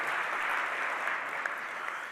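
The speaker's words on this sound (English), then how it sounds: "Round of applause to Susan and everybody who's stepping out" A conference audience gives steady applause for retiring colleagues, a continuous even roar of many hands clapping at moderate distance, fairly soft and sustained throughout.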